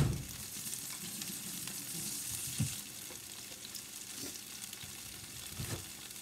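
Beets fry in a pan, giving a steady close sizzle with a few soft stirring scrapes and clunks.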